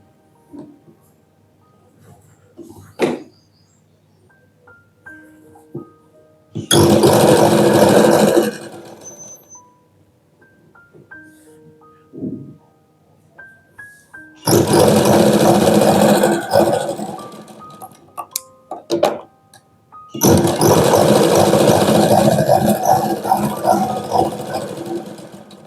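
Domestic sewing machine stitching the shoulder seam of a princess-cut blouse, running in three loud sustained bursts of several seconds each, with quiet pauses between them.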